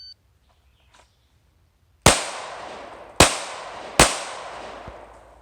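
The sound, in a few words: pistol shots fired in a shooting drill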